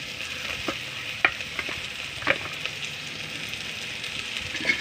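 Chopped large onion sizzles steadily in hot oil in a pan, a soft continuous crackle with a few sharper stirring clicks and scrapes, close and moderately quiet, no talking.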